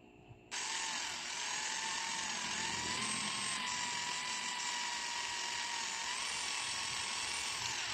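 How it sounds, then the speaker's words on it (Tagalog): A power drill whines steadily up close while lapping the exhaust valve of a Yamaha Vega 115 fi motorcycle. It starts abruptly after a brief quiet moment and then holds a high, continuous drone with slight wavering in pitch. "barina ang ating ginamit para mapabilis ang ating paglinis sa kanyang valve set at ang ating valvula"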